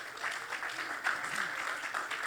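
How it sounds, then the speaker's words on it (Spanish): A church congregation claps together during a sermon, a brief burst of dense applause at moderate distance with a voice faintly present underneath. "Denle un aplauso fuerte al Señor."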